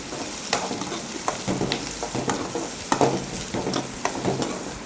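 Brinjal sautéing in hot oil for a village-style spicy kuzhambu, with a continuous close sizzle punctuated by repeated scraping stirs of a spoon against the pan, no voices.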